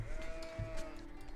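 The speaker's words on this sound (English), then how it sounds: "Why are these sheep over here?" A sheep in the strategy game Age of Empires gives a single short wavering bleat, close and clear over faint background game ambience.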